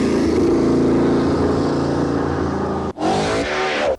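A 1990s supercar's transversely mounted engine, with 8 camshafts, 64 valves and 540 horsepower, revs hard and loud close by, then cuts out briefly as if changing gear before screaming up again.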